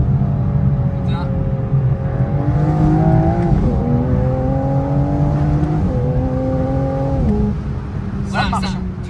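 A car accelerates hard, the engine pitch climbing in a few stepped rises as gears shift, loud and close from inside, with voices talking over it.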